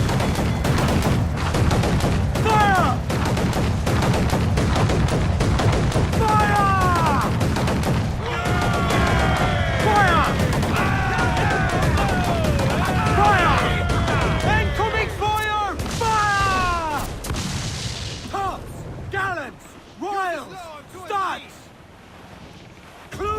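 Naval battle in Assassin's Creed IV: dense, continuous rolls of cannon and gunfire booming over rushing wind and sea, with shouting crew voices throughout before the barrage thins toward the end.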